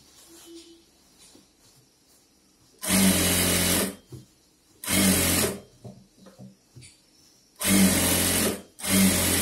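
A sewing machine stitches a pattu pavadai in three loud bursts of rapid whirring, with a fourth starting at the end and quiet pauses between them.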